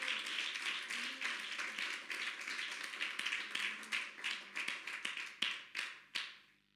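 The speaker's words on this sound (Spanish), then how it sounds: "Si quieren, un aplauso al Señor" A church congregation applauds to the Lord with a dense burst of clapping at moderate distance. It thins into scattered individual claps and ends on a few sharp final hits before dying away.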